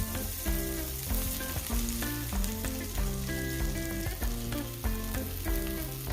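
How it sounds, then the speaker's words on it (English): Olive oil and butter heating in a pan, a steady, close sizzle and crackle that continues throughout, with background music playing over it. "In the pan, I am heating up some olive oil and some butter."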